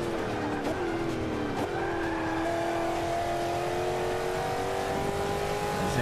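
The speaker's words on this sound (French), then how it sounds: "Comment elle hurle la voiture!" Race car in the video game Forza Motorsport 5, its engine screaming at high revs with rising pitch sweeps as it accelerates, loud and continuous alongside faint tyre squeal.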